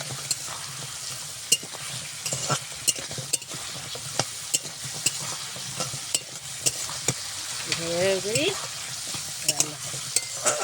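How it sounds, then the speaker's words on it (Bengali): A spice paste is stirred and fried in a pan with eggplant and puti fish, a steady sizzle broken by frequent scraping clicks of a spatula against the pan. "নাড়াচাড়া করে কষিয়ে নিয়ে বেগুনটা দিয়ে দিই।"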